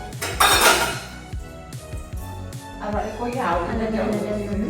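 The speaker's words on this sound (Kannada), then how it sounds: "ಪಾತ್ರೆ ತೊಳಿತಾ ಇದ್ದಾರೆ" Dishes and pots clink and clatter in a sink, with repeated metallic knocks and running water, while people talk in the background.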